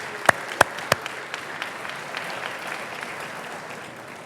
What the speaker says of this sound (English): please give the chamber and Jackie and her staff a big round of applause